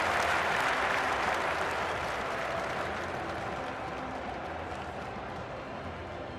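Sustained crowd applause at the women's archery final in the London 2012 Olympic video game, held at the home of cricket; a dense, steady wash of clapping that stays loud throughout and eases off slightly toward the end.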